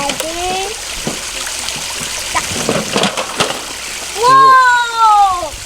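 Water splashes and sloshes close by as a toy backhoe scoops at a pond, with a louder splashing burst near the end and children's voices throughout.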